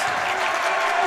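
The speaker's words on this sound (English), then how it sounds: "Crowd getting into it now." Crowd noise at a varsity high school basketball game, a steady broad roar of cheering and clapping from the stands that holds at an even level throughout.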